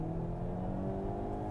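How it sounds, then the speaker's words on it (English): A 2022 Hyundai Kona N's exhaust in Sport Plus mode gives a loud, steady engine drone with a low rumble, heard alone. "And of course that exhaust in full Sport Plus mode."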